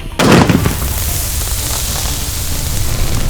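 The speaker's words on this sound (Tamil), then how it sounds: "சிலிண்டர் வெடி எல்லாரும் வாங்க." A cylinder firecracker goes off with a sharp loud blast at the start, followed by crackling noisy decay and lingering hiss.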